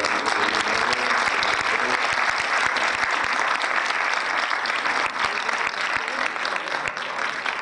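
Audience applause at a literary festival in Karachi, dense and sustained clapping from a large seated crowd filling the hall, loud and even from start to finish.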